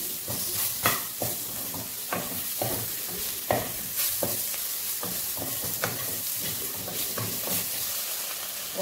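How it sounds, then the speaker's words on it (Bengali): Spice paste with salt and Kashmiri chilli fries in a pan for a spicy tangra fish dish, sizzling steadily up close while a utensil stirs and scrapes in a loose, repeated rhythm. "লবণ, কাশ্মীর লঙ্কাগুলো দিয়ে এবার মশলাটা ভাজবো"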